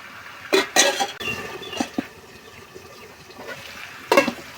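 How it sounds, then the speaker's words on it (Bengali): A metal lid clinks onto a cooking pot of simmering desi chicken curry, a few sharp clattering knocks spaced across a soft kitchen background, close and moderately loud. "এখন ঢাকনা দিয়ে ঢেকে দিব।"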